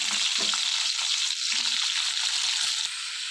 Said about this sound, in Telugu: మొత్తం బీరకాయ ముక్కలన్నీ కూడా ప్యాన్లో వేసుకుని వీటిని బాగా వేయించుకోవాలి.